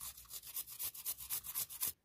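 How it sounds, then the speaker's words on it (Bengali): Two large garlic cloves are rubbed against a grater for a chicken kadai marinade, producing about a dozen quick, soft scraping strokes in an even rhythm, faint and close. "দুটো যে বড় সাইজ রসুনের কোয়া নিয়েছি ওটা একটু ঘষে দিয়ে দেবো।"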